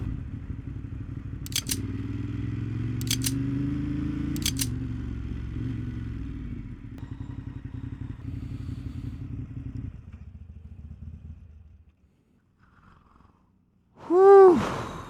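A Ducati Monster 1200 S roars steadily along a highway at speed, its engine note rising and falling with gear changes before fading to near silence, followed by a brief burst of sound at the end.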